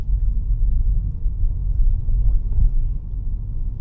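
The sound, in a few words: BYD Atto 2 DM-i plug-in hybrid car quietly pulling away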